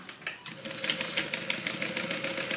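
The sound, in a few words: sewing machine stitching the Soraya divider bag seam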